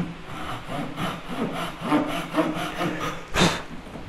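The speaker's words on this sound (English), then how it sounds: "we're pulling, remember? And we're going to try and go down about maybe 2 millimeters" A Ryoba compact Japanese pull saw cuts a wooden tenon held in a vise, rasping in steady, evenly paced pull strokes close to the mic, with a sharper scrape near the end.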